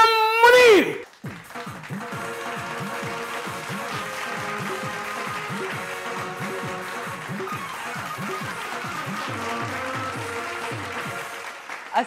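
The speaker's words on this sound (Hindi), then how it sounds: "आपकी तालियों की गूंज में मैं बुलाने लगा हूँ हमारी टीवी की लेजेंड हीरोइन नीलम मुनीर।" A studio audience on a TV celebrity show gives rhythmic applause to welcome a guest actress, with steady clapping that continues for about ten seconds after a brief sharp sound at the start.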